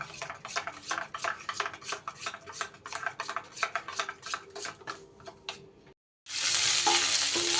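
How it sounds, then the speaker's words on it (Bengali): Cauliflower fries in a pan with rapid, rhythmic stirring and scraping strokes over a sizzle, the clatter stopping briefly before a sudden loud burst of hissing oil. "ফুলকপি কিন্তু বেশ সুন্দর আমার লাল লাল করে ভাজা হয়ে গেছে"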